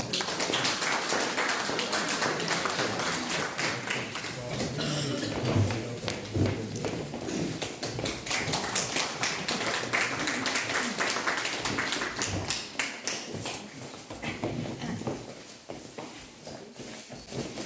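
A large audience gives sustained, loud applause to welcome a New Year's concert ensemble of Užava Blūmīzeristi performers aged 64 to 80, a dense wash of clapping that fills the room for the whole stretch.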